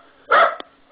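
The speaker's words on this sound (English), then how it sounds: "sounds like we have a dog in the background" A dog barks somewhere in the background during an online business meeting, one loud bark burst followed by a short yip, fairly close and standing out against a quiet room.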